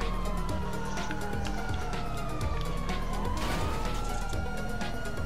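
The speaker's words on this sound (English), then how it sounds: "Put on your sirens, maybe he'll stop." A wailing police siren sweeps up and down over a steady engine roar, loud and continuous, during a pursuit in GTA Online.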